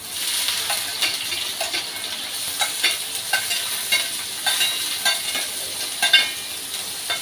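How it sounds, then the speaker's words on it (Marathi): Garlic and onion sizzle in hot oil in a pan, a steady close crackle with frequent stirring clinks and scrapes rising above it, no voices. "आता कांदा छान असा ब्राऊन होईपर्यंत आपण तेलामध्ये फ्राय करून घेऊ"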